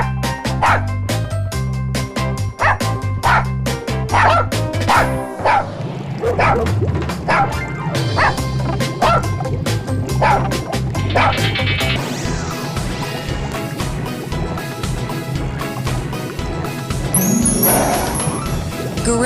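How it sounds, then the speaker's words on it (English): A dog barks repeatedly in quick, sharp yips and bow-wows, close and loud, with a whimpering note and busy background music running underneath. "dog"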